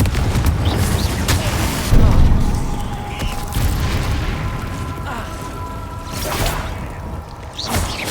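Confringo spell explosion in Hogwarts Legacy on Xbox Series S: a loud, dense burst of booming, crackling game effects with whooshes and rumbling debris, continuous throughout with several sharper hits.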